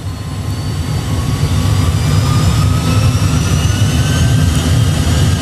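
Airbus A320 jet engines spool up to 50% thrust before a crosswind takeoff, a loud, steady roar with rising whine tones, building slightly in level and continuous throughout without talk.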